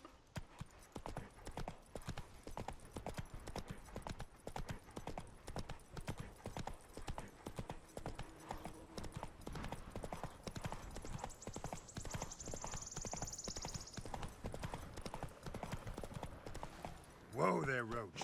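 Geralt's horse Roach gallops in the Witcher 3 video game, with fast, steady hoof clip-clops throughout and a brief whinny near the end, while someone talks over the sound.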